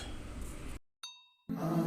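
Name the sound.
subscribe notification bell ding sound effect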